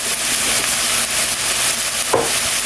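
Onions with a little turmeric sautéing in a pan for a Tamil crab curry, a steady close sizzle and crackle with a brief stirring scrape near the end.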